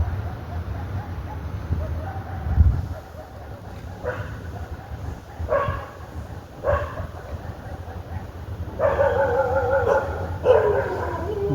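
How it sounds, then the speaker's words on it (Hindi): Dogs bark behind a housing society where a Zomato delivery rider waits, sounding as a handful of yips and woofs from some distance over a low, steady hum. "अब पीछे वालों ने पीछे भौंकना शुरू किया"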